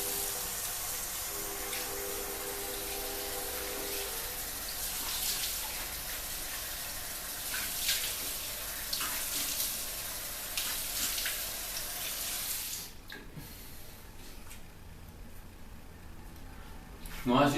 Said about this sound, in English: after your first pass is done, you want to rinse your face